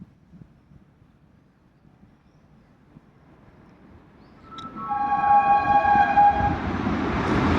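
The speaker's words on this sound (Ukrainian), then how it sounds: "Потяг." After a few quiet seconds a train rumbles in loudly near a station by the sea in Italy, its horn sounding a long, steady tone as it passes nearby.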